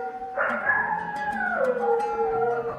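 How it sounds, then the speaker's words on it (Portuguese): A dog howls in a long, wavering, rising and falling wail lasting a couple of seconds, with a few faint higher yips around it, fairly close and without talking. "Olha o cachorro uivando."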